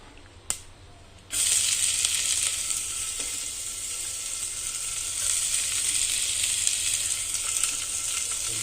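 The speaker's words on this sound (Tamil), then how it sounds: "இந்த பக்கம் இது கடுகு போட்டாச்சு" Mustard seeds sizzling in hot oil while tempering for South Indian sambar: a quiet opening with a small click, then a sudden loud, steady hiss of frying that continues to the end.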